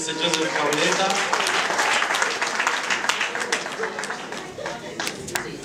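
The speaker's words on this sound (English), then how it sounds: "Another hand of applause for Mr. Joseph Cavaletta." A crowd at a book launch bursts into sustained applause, dense clapping with scattered louder claps and some voices underneath, gradually thinning toward the end.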